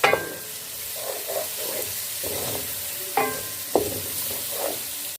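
Whole garam masala spices fry in a pan with onions, giving a steady low sizzle broken by a few sharp stirring clicks and scrapes, close and alone with no talk.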